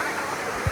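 A heavy monsoon waterfall at Malshej Ghat roars in a steady, loud, broadband rush close by, with no break over the short stretch.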